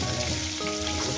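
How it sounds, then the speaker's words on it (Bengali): Pieces of rui fish fry in hot oil in a pan, giving a dense, steady, close sizzle with no voices. "মাছগুলো ভাজা হয়ে গেছে"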